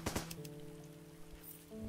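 Rain in the video game Starbound patters steadily and quietly, with a few sharper drop sounds and soft tonal game sounds layered underneath.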